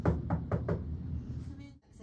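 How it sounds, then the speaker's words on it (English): Four quick knocks on a resident's room door in a care facility, evenly spaced and close, followed by a brief quiet pause. "I'm going to knock on the door."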